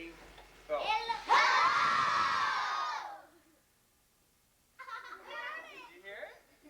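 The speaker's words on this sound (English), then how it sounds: "When I say go, you yell hello as loud as you can." Second grade children in a 1988 classroom yell hello together as loud as they can, a loud sustained crowd shout of about two seconds, preceded and followed by an adult talking.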